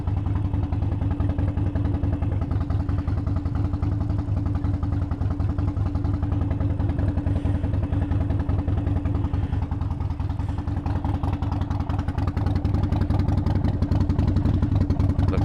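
A Harley-Davidson Sportster motorcycle with newly replaced brakes rides along, its engine note a steady, close, low rumble and throb that holds for the whole stretch with no talking over it.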